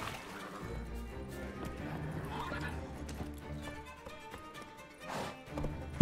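Roach, Geralt's horse in The Witcher 3, gallops with rhythmic hoofbeats and gives a whinny, alongside in-game effects and music at moderate level.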